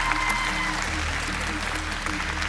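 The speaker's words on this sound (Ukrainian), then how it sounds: "Оплески для Ксенія." Audience applause for an act in the finals of a televised talent show, a steady, dense clapping from a full studio crowd over a low electrical hum, continuous throughout.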